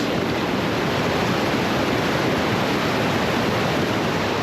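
Water in a deep river crossing rushes loudly as a vehicle on a New Zealand road trip pushes through, a continuous broadband roar with no break and no voices.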